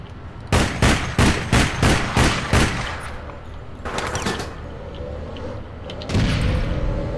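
Rapid gunfire bursts in the online shooter APB Reloaded, a run of about eight loud, evenly spaced shots, then a grenade blast and another heavy burst near the end.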